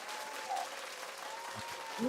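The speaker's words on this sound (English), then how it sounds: "Let's give him a big round of applause" A small podcast studio audience claps steadily for a guest, fairly faint and sustained throughout, with a voice speaking briefly over it.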